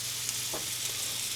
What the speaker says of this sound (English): All right, I got that meat sizzling.